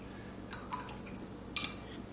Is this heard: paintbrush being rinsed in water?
yes